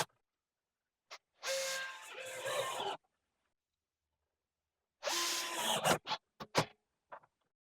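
A power drill bores into and drives screws through the corners of a wooden acoustic absorber frame, in two sustained whirring bursts separated by silence, the second ending in several short stuttering pulses.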